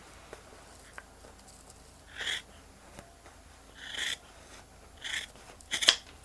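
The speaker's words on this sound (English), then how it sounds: "I'll trim off a little piece of this that's hanging out." Scissors snip off a hanging piece of fabric in a handful of short, separate crisp cuts spaced a second or so apart, close and fairly quiet against a hushed background.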